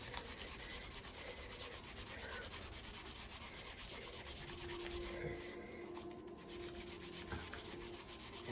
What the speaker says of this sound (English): Just keep sanding like back and forth, back and forth.